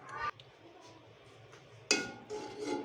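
A pot of buffalo milk is set on a home stove with a couple of metallic clanks and scrapes, faint kitchen clatter between them.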